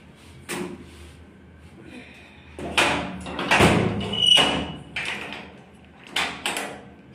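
Several thuds and clunks of a door being shut and handled, a few separate knocks spread over several seconds, fairly close with quiet gaps between.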